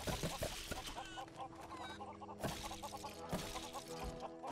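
Chickens in LEGO Worlds cluck repeatedly in overlapping bursts, loud and close, over a busy layer of game sound and music with a few sharp hits.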